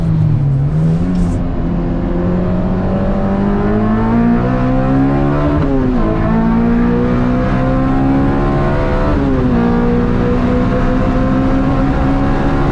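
A race car engine howls on a track, loud and sustained, its pitch climbing steadily and dropping sharply at gear changes before climbing again.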